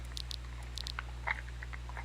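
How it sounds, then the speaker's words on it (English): Second Life video game sounds of a red fox avatar chewing and tearing meat, soft repeated wet bites and munching at a close, moderate level over a steady low hum. "You're chewing on a bit of meat."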